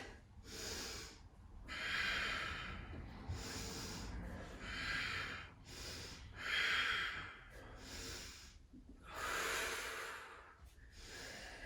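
Heavy rhythmic breathing during a core yoga exercise with crunches and extensions: loud, close, hissing inhales and exhales repeating in bursts about every second or two, with no talking.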